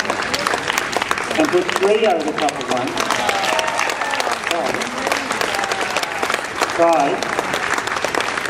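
An audience claps and applauds at a live horse training demonstration, the clapping steady beneath someone speaking over it.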